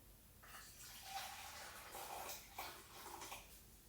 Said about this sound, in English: we're going to add 3/4 cup of boiling water